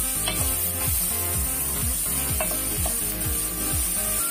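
Minced beef seasoned with soy sauce sizzles in a frying pan with sauteed vegetables, giving a steady close hiss broken by repeated scraping and stirring sounds from a utensil.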